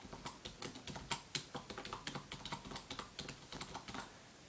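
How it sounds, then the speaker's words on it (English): Fingers typing on a computer keyboard in a quiet, sci-fi space-tour setting: a steady run of close, crisp key clicks with small pauses and a few louder strokes, heard alone. "They call it a keyboard, and it was very popular around the turn of the 21st century on planet Earth."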